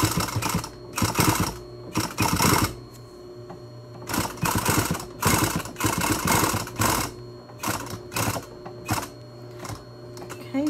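A sewing machine stitching a seam on a fabric face mask, running in loud rapid bursts of a few seconds with short pauses between them as the fabric is turned, close and clear.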